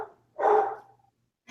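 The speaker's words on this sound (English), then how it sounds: "excuse the barking in the background." A dog lets out one loud, harsh bark up close, followed by a short, fainter bark a moment later.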